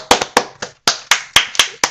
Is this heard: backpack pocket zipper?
no